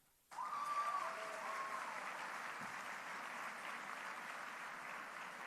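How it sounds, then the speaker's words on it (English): Applause breaks out suddenly at an international commercial arbitration moot award ceremony, a broad, even wash of many hands clapping across the hall, with a brief whoop of cheering near the start. "we can do one by one with a cheer and a clap"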